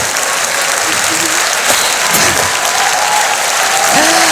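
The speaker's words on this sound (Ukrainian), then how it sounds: "Ці оплески для вас." An audience at the Ukraine's Got Talent semifinal gives a music band loud, sustained applause that fills the hall throughout, with faint crowd voices underneath.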